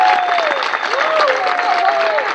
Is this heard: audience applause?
yes